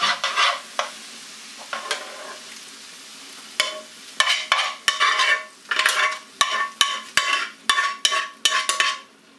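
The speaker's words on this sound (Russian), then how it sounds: "Не забываем помешивать зажарочку." Food sizzles in a hot pan while a utensil scrapes and stirs it in repeated strokes that grow busier toward the end.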